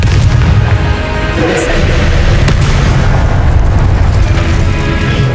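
A blasting Confringo spell explodes in the Hogwarts Legacy video game, amid loud, continuous booming combat with deep rumbling blasts that fill the whole stretch and leave no quiet gaps.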